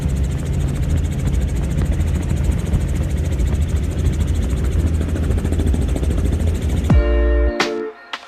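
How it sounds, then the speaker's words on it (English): A helicopter flying over a forest fire gives a loud, steady rotor-and-engine roar with a pulsing beat for about seven seconds, then cuts to brief tonal radio-like sounds and a few sharp knocks. "This helicopter pilot flying in a forest fire."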